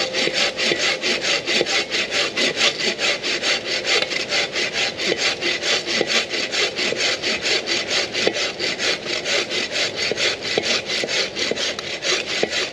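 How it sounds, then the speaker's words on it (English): A bow saw cutting through a dry piece of wood in the woods, with loud, close, rhythmic back-and-forth rasping strokes repeating evenly throughout. "I'm just going to cut this bit off, nice and dry, that, just how long it takes with this bore saw"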